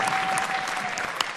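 Studio audience applauding at a televised dance competition, a short dense burst of clapping heard up close with no talk over it.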